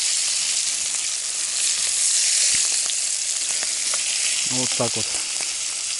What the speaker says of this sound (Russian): Жарится быстро.